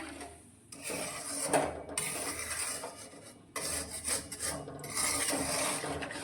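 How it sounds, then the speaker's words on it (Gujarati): Grated fresh coconut is stirred in hot ghee in a pan, making a continuous close rasping scrape in long strokes with brief pauses between passes. "અને તેને સારી રીતે મિક્સ કરીશું સતત આ રીતે હલાવતા જઈ અને તેને મિક્સ કરવાનું છે"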